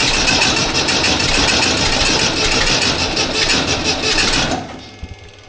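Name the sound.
Volkswagen Beetle ute engine starting and running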